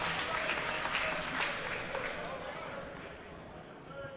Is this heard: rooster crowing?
no